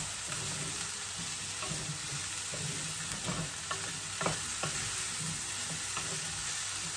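Red peppers and onions stir-frying in a pan for upgraded instant noodles: a steady close sizzle with scraping, clacking stir strokes scattered through, no talking.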